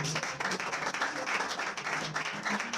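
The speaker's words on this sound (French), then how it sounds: "Est-ce qu'on peut acclamer pour le Seigneur?" A church congregation applauds for the Lord, steady clapping from many hands filling the room at moderate loudness, with some voices mixed in.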